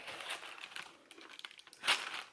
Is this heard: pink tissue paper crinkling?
yes